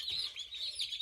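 Day-old chicks in a farm brooder peeping, a soft, high, continuous cheeping from many birds at once, faint and close.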